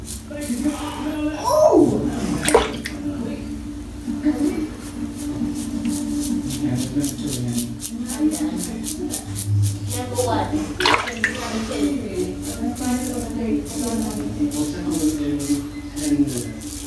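Water runs and splashes steadily as a shaving razor is rinsed at a sink, with a voice talking over it.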